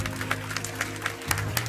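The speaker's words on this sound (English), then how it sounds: "Put your hands together, give the Lord a mighty hand clap." A church congregation claps steadily, each clap soft and blended, while an organ or keyboard chord holds underneath.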